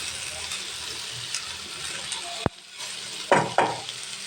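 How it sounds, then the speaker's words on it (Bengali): Fish is stir-fried in an uncovered pan with a steady hiss of frying, broken by one sharp metallic knock and a pair of scraping clatters from the spatula near the end. "ঢাকনা খুলে আমি এটাকে ভালো করে কষিয়ে নিচ্ছি"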